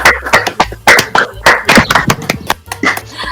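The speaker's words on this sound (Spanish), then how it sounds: "Me gustaría animar a los aquí presentes a desmutearse y a darte un aplauso." Scattered hand claps from a few unmuted participants on an online call after a game-industry interview with Alba Iniesta of Scopely; close, uneven, separate claps rather than a crowd.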